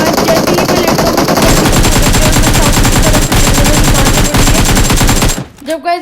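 Rapid automatic gunfire in a battle-royale-style shooter game fires loud and close in sustained bursts, with a brief drop near the end as other game sounds take over.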